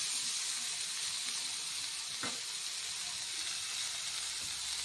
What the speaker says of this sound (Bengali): এখন দিয়ে দেবো জল,